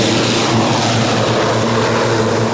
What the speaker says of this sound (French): Malgré le vacarme des moteurs d'avion